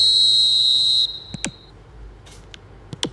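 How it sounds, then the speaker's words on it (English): Referee's whistle in an eFootball match, a sharp high shrill blast lasting about a second, followed by a few faint clicks and taps. "There's the whistle, and here we go."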